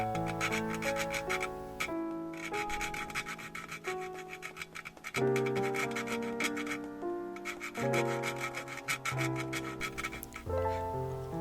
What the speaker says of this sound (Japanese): 削りすぎないように注意してヤスリで高さを調節します。